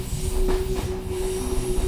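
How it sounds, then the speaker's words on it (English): A train rolls along the rails with a steady rumble and a sustained metallic whine, close and even throughout, with no talking. "The train continues on, steady and calm, its rhythm carrying you farther into the night."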